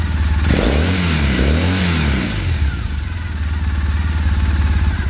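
A Triumph Bonneville motorcycle fitted with a TOR exhaust revs up to 5,000 rpm, with two loud, close rising-and-falling engine sweeps over a deep idle rumble, then settling back to a steady idle.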